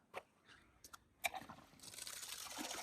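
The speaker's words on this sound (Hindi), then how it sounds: "पानी की गुंडी भर देते हैं।" Water pours into a cattle water tub, starting as a few scattered knocks and splashes, then building into a steady, hissing gush of filling water; quiet and close, with no voices.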